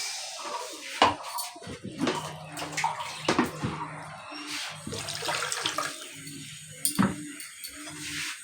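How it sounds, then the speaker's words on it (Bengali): Water poured into a cooking pan while preparing a pabda fish curry, a splashing, gurgling pour with clinks of the pan, fairly close and moderately loud. "এবারে আমি এর মধ্যে দিয়ে দেব জল।"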